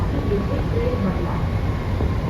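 A Mumbai Metro Line 9 train pulls into Oripada station, giving a steady, loud low rumble and whir that holds evenly throughout with a faint tonal hum above it.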